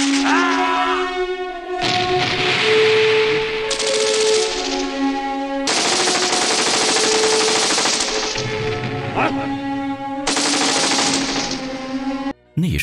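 Bursts of machine-gun fire ring out in a war film scene, loud and rapid. Several long volleys are broken by short pauses, with tonal background music and a brief drop near the end.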